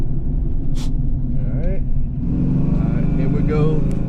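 A 1988 Ford Mustang LX with a 331 stroker engine pulls hard in first gear on motor alone, a loud, close, rumbling engine note climbing steadily under excited talk from people in the car.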